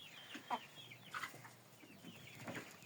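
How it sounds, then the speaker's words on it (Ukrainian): Chickens clucking softly at a short distance, silkie and frizzle hens and roosters, several scattered calls over quiet background. "ось у нас є хорошенький півник такий"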